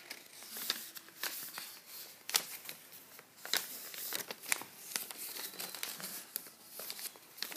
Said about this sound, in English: folded the top to the bottom and do the same on the other side